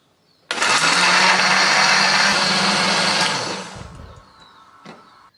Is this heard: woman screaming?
no